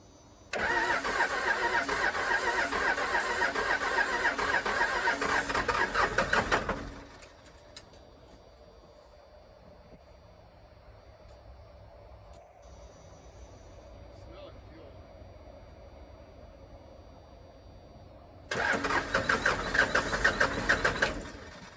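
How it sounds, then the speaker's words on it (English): A 1996 Dodge Ram 2500 with a Cummins 12-valve diesel cranks loudly on its starter for several seconds without catching, falls quiet through a long pause with low background hum, then cranks hard again at the end; no one speaks. "just keep cranking on it"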